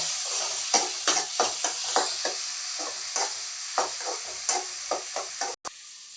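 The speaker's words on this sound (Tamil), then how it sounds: "மஞ்சள் போட்டு நல்லா வதக்கலாம்." Turmeric and tomatoes sauté in a pan for an aubergine masala, a soft continuous sizzle broken by regular scraping stirs of a spoon, each stroke a short rasp repeating about every half second.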